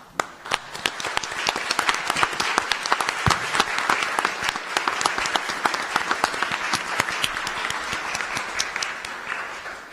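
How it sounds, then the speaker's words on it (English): Sustained audience applause at a district board of supervisors candidate debate, dense steady clapping from a sizable crowd lasting throughout without a break. "would you stand up so we can give you a round of applause?"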